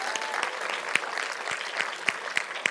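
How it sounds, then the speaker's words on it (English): An audience claps for a school drama department's performances, a steady, dense round of applause with a few sharper individual claps standing out, fairly close and sustained throughout. "let's make sure that the drama department also gets a very loud round of applause"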